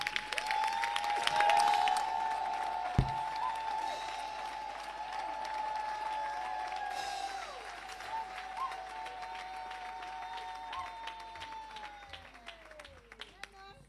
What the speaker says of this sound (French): Acclamons le Seigneur pour notre papa et maman.